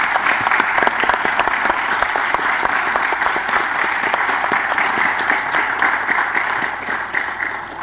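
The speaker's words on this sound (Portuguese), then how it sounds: "Queria pedir uma salva de palmas para eles," A conference audience gives a technology and artificial intelligence panel sustained, even applause, loud and dense throughout and tapering only slightly at the end.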